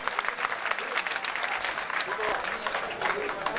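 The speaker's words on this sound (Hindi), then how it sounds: "वाह वाह भाई, जोरदार तालियों से इस्तकबाल करें" An audience at a Hindi comedic poetry gathering breaks into sustained applause, dense and steady clapping from a crowd filling the whole stretch, with a voice speaking over it.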